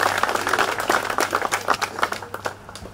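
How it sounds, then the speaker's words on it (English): Audience members clap to welcome a speaker at a street dedication ceremony, a moderate round of hand claps that thins out and grows quieter toward the end. "give him a hand clap"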